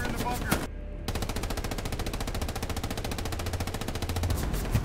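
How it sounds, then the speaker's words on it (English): Rapid, sustained machine gun fire from a bunker in a first-person shooter video game, loud and continuous in dense bursts with a brief pause near the start. "Machine gunner in the bunker."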